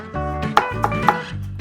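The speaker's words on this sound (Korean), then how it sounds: "가운데다 넣고 자르려니까 저리 자꾸 튀긴다" A knife chops a quarter onion on a cutting board for seasoning, three sharp, evenly spaced thuds close up over a steady hum.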